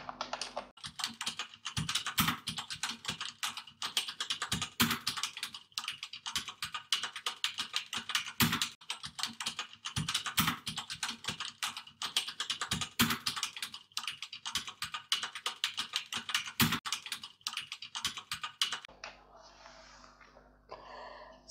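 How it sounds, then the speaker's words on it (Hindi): Rapid, continuous clicking of a computer keyboard during an online typing test, dense close keystrokes running for about twenty seconds before stopping. "टाइपिंग कंप्लीट हो चुकी है"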